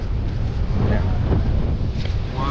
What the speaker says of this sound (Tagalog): Mahangin naman kahit mainit eh.